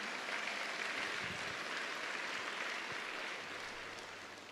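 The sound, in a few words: audience applause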